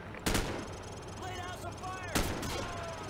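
Gunfire in Call of Duty Modern Warfare: two loud, sharp shots about two seconds apart over a steady low combat rumble, with faint chirping game effects between them.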